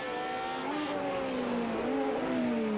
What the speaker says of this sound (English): Can hear an engine coming up quite quickly